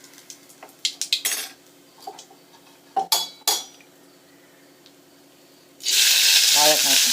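Mustard seeds dropped into hot sesame oil in a pan: scattered utensil clinks and taps come first, then a loud, sudden broadband sizzle bursts up and holds steadily to the end.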